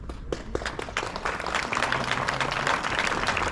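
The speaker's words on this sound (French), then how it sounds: "On peut les applaudir encore une fois." Applause from the crowd at an Armistice Day ceremony for secondary-school students and their music teacher, a steady patter of many hands clapping that swells and holds for several seconds, with faint voices underneath.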